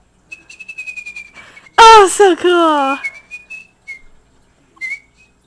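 A girl whistles a wavering, warbling tune in bursts, shifting from short light tweets to loud swooping slides and back, with a brief spoken comment from someone nearby.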